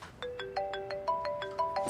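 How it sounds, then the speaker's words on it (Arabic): A telephone rings with an electronic ringtone: a quick run of bright, melodic beeps in a steady repeating rhythm, fairly quiet and heard alone. "تليفون."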